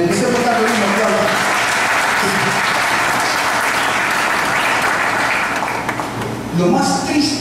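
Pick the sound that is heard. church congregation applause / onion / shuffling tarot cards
church congregation applause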